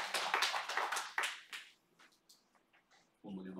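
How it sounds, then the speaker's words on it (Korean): A church congregation bursts into applause during a worship service, giving a loud dense clapping for about a second and a half that then fades into scattered faint claps, with a voice coming in at the end. "우리 하나님께 영광의 박수하겠습니다."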